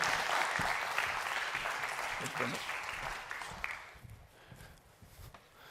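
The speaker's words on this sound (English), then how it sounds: "give another warm round of applause, our audience, to Daniel Dobrygovsky, Head of Governance a" Applause from a conference hall audience at a digital-growth forum, steady and moderately loud at first, then thinning out and fading toward the end.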